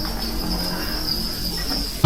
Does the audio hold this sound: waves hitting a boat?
no